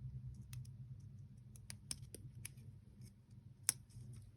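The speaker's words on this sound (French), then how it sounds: "Je vais juste couper légèrement." Small scissors snip paper during a scrapbooking craft session, a few quick crisp cuts and clicks spaced irregularly, close and quiet with no voices.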